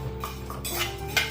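Oats dry-roasting in a kadhai for dry fruit laddu, stirred with a metal spoon that scrapes and clinks softly against the pan in a few light, intermittent strokes close by.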